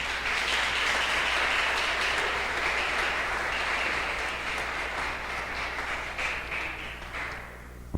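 Congregation in a church applauding, a continuous broad roll of clapping heard at a moderate distance, steady at first and gradually thinning out near the end.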